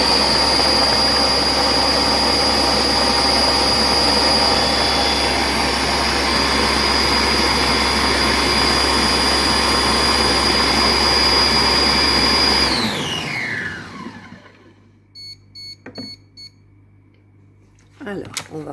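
Compact Cook Pro food processor blending carrot and apple soup at top speed: a loud, steady motor whine for about thirteen seconds, then winding down as the motor stops, followed by faint beeps and handling clatter.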